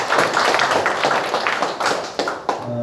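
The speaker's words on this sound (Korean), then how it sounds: "한번 박수 한번 보내주시고." Lively clapping from an audience at a civic academy lecture on inter-Korean exchange, dense and close throughout the short burst.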